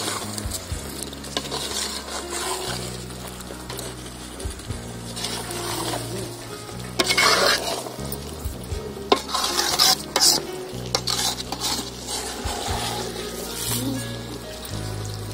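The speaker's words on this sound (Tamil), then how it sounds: "மெதுவா கிளறுங்க, முட்டை உடஞ்சிரும்." Egg gravy simmers and sizzles in a village kitchen pan while a spoon stirs it slowly, with repeated scraping and clinking throughout and low murmurs in the background.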